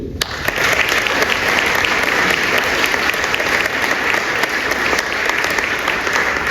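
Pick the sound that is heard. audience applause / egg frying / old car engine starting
audience applause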